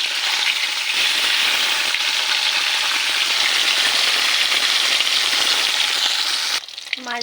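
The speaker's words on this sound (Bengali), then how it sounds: "মাছ ভাজা হচ্ছে।" Fish sizzles and spits loudly in a hot frying pan in an even, continuous hiss that suddenly drops away near the end, followed by a brief clatter.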